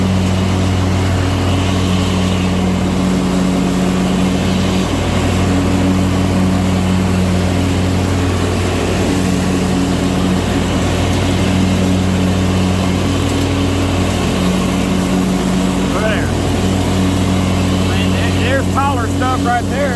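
A Troy-Bilt zero-turn mower with a steering wheel runs its engine while cutting into taller grass. The engine drones loudly and steadily without letting up, with people talking over it.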